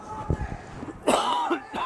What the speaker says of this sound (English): You'll have to excuse me coughing here.